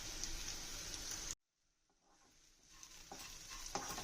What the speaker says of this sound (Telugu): ఒకసారి కలిపేసుకొని